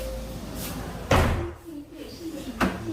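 A rattling knock of a loose window frame being shaken sounds close by during an apartment inspection, followed by lighter clacks and a second knock, with faint background murmur.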